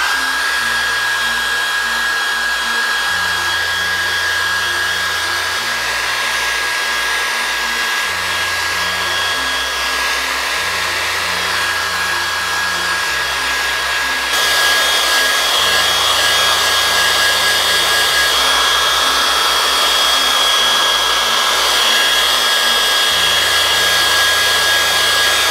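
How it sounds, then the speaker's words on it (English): A hair dryer blows steadily and loudly over crackle glue paint on a distressed patina project, a continuous whirring roar that grows slightly louder partway through, with no talking. "I'm even gonna see if I can hit my hair dryer on there and see what happens."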